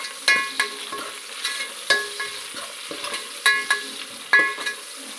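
Cumin seeds and crushed garlic fry in a pan with a soft sizzle, punctuated by sharp, repeated scrapes and clinks of a spatula stirring against the metal.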